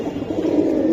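Pigeons, a pair of homer or high-flying tumbler birds at a market, give a steady low cooing that carries on without a break at close range, with no talk over it.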